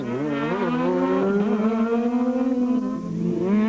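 The Castrol Toyota Auris rally car races on tarmac at the Gauteng Rally in 2009, its engine holding a loud, close, continuous whine whose pitch bends up and down as it revs through the gears.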